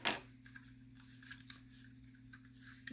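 Scissors snip through a little knot of cardmaking kit material, a quiet, close rasping cut at the start followed by faint rustling in a still room.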